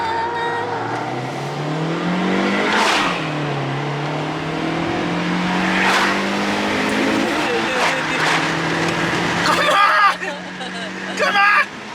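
A race car accelerates as it pulls out into traffic, its engine note climbing through several gear changes, loud and close, with people talking over it and a dog present.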